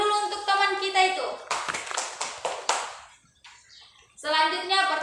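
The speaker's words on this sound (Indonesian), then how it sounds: "Tepuk tangan dulu untuk teman kita itu." Schoolchildren in a primary school classroom burst into a short round of applause for a classmate, a quick flurry of claps between a teacher's voice before and after.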